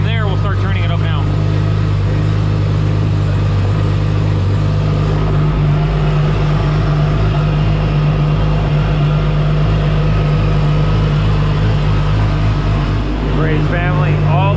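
A Toyota Supra built to over 800 horsepower roars steadily on a dyno in an enclosed dyno room, a loud, sustained engine drone with a deep low rumble that holds throughout, while voices talk over it.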